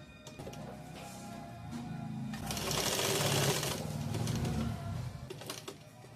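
A sewing machine stitching a blouse runs in a close, continuous mechanical whir, starting with short bursts, then building to a louder steady run in the middle before easing off again.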